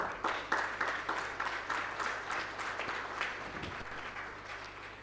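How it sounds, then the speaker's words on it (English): Conference audience applauding in a hall, many hands clapping in a dense, even patter that swells early and then slowly fades, with no talking over it. "A huge round of applause for them."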